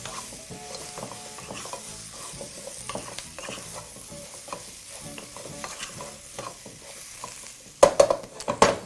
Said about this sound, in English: Return your pot back to the heat and proceed to cook as you did in the beginning, constantly mixing through.